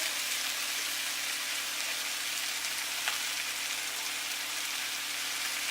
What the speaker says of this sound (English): the pan is searing and the vegetables are sauteed